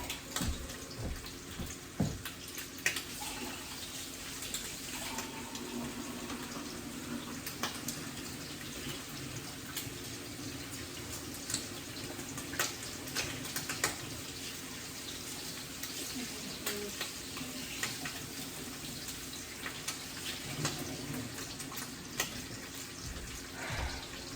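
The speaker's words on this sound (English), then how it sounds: "Let me wash my hands real quick." Running tap water splashes over hands at a kitchen sink in a low, steady wash with a few faint clatters mixed in. No one speaks.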